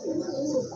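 A large pigeon at a Bangladeshi pigeon market coos softly and steadily at close range, a low throaty murmur that carries alone without speech.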